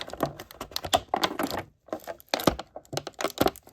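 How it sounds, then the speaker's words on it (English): Scissors snip and crinkle through plastic blister packaging to free a Mattel WWE Legends action figure, a close series of sharp cuts and crackles in irregular bursts with short pauses between. "cut out the Ravishing one here"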